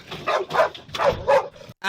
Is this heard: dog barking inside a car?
yes